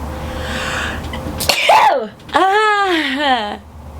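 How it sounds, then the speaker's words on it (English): A woman gives a short gasping inhale followed by a sharp, voiced sneeze that trails into a wavering vocal tail, loud and close over faint background hum. "So that's how I sneeze."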